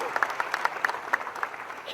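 Scattered audience clapping at a political speech event, with irregular individual claps fairly close and faint voices in the background.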